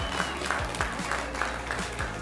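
Audience applause at an outdoor riverside art exhibit event, a steady wash of clapping from a crowd with a faint regular thumping beneath it, moderately loud and continuous throughout.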